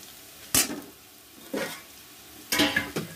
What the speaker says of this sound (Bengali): দেখুন পেঁয়াজটা আমি ভেজেছি, এরকম করে পেঁয়াজটা ভাজবো।